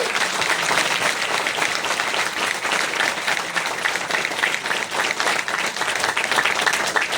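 Audience at a Sanskrit university convocation ceremony in Uttarakhand breaks into loud, sustained applause, a dense wash of clapping that holds steady across the whole stretch with no talk over it.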